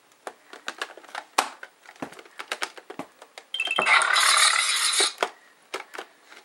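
Glitched glass-breaking sound effect from the SNES game Super Mario All-Stars: scattered crackles and clicks, then a dense bright shattering burst lasting about a second and a half, followed by more sharp ticks.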